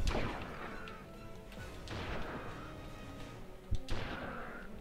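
In the PS2 game Ratchet & Clank 3, sniper shots fire as a few sharp cracks with booming tails spaced over several seconds, set against a steady bed of game noise.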